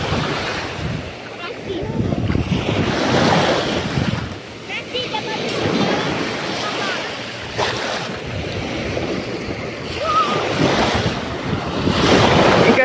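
Surf breaks on a beach at Mersin with strong wind buffeting the microphone, a continuous rushing wash that swells and ebbs while people talk nearby.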